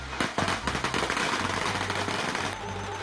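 Firecrackers burst in a rapid crackling string at a village ceremony raising the main beam onto a wooden building, loud sharp pops crowding together over about three seconds.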